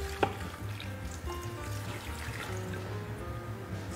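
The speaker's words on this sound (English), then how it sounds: "I'm gonna pour our sauce over the top." Sauce is poured over a shrimp boil in an Instant Pot, a soft liquid trickle and splash with a brief clink near the start over a low steady kitchen hum, close by and with no talking.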